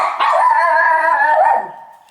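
A single drawn-out dog howl, loud and close, rising then fading away over about two seconds.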